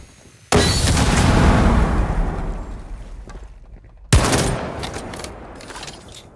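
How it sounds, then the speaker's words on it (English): A frag grenade in Rainbow Six Siege goes off with a loud, close blast that rumbles and decays for a few seconds, followed by a second sharp burst of gunfire or impact noise. "Frag grenade out."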